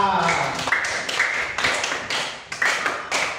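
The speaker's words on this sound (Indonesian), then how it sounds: "Tepuk tangan untuk kita." A class of third-grade schoolchildren claps hands together in an elementary classroom, a burst of quick, uneven claps close by with overlapping voices of the children talking through it.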